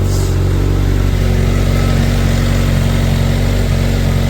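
A Honda CBR1100XX Blackbird motorcycle idles loud and close with a steady low rumble, its radiator fan whirring continuously alongside the engine while it runs hot.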